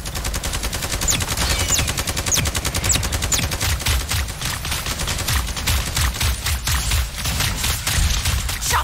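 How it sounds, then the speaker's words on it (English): Rapid automatic gunfire from the mech shooter Super Mecha Champions, a loud, dense stream of evenly spaced shots over a low rumble, with a brief lull partway through before scattered bursts resume. "Shots heard."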